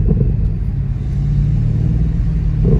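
A BMW M850i convertible engine accelerates with a deep, steady, loud rumble heard from on board, and a slight swell near the end, with no voices.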